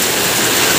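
Heavy storm rain pours outdoors, a loud, dense, continuous wash of noise with no break or voices.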